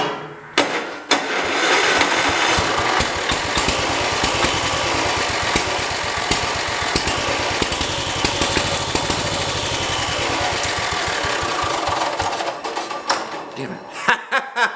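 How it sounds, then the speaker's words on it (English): A 1969 Volvo 112 engine cranks, fires after years of sitting and settles into a loud, rough, rapid running rhythm close by, with people talking over it before it cuts out. "We know the engine will run."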